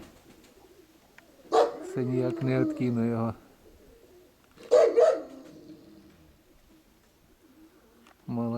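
Pigeons coo close by in two short bursts of throaty warbling, separated by quiet, with a voice speaking briefly in Ukrainian.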